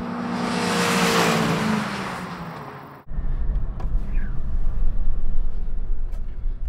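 Volkswagen Golf GTI cars drag racing: a car engine revs hard and loud under acceleration, then cuts abruptly to a rumbling, wind-buffeted drone of another car passing at speed.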